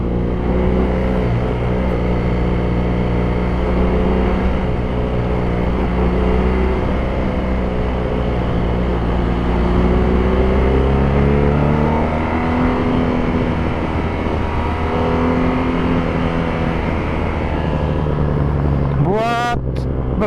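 A 2018 BMW R nineT Cafe Racer cruising, its engine droning steadily with slowly shifting pitch and heavy rushing wind noise, loud and close throughout, ending in a brief rising whine.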